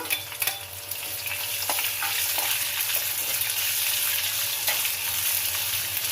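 Onions sizzle and crackle steadily in hot oil in a tempering of seeds, with a few sharp scraping stirs early on; no voices.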